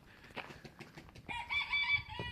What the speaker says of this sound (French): Petit coq, bonjour. Tu chantes à toute heure?